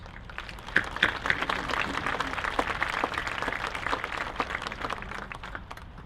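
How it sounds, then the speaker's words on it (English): An audience at a high school graduation ceremony in Wantagh gives a sustained round of applause, a steady mass of clapping with sharp individual claps and a few cheers standing out, moderately distant. "I think we need to give them the credit they are owed with a nice round of applause"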